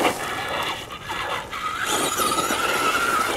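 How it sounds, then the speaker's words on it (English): A Traxxas Rustler XL-5 RC car drifts on cement, its tires squealing in a high, shifting whine that rises and sustains over a motor hum, loud and close. "Look at that, the drifting is just amazing."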